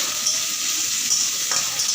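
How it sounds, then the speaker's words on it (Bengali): Onions fry in a pan as jute leaf curry is started, giving a steady close hiss and sizzle with a few faint stirring scrapes, alone without talk. "ভালোভাবে একটু নাড়াচাড়া করে নেব যতক্ষণ না পেঁয়াজগুলো হালকা করে ভাজা ভাজা হচ্ছে।"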